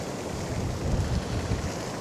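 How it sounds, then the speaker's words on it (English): Strong wind buffets the microphone beside a lake, a steady roaring rush with gusty surges, close and loud throughout with no talking. "The winds are pretty fierce, I've got to be honest."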